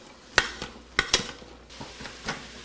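Onions and sausage being sautéed in an Instant Pot, with a utensil clinking and scraping against the metal insert in several sharp, irregular knocks over a faint background.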